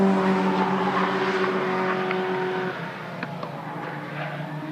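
Race cars lapping the Anglesey circuit during a BRSCC race weekend, engines droning steadily at mid distance, a sustained tonal whine that drops away partway through while the motor noise carries on.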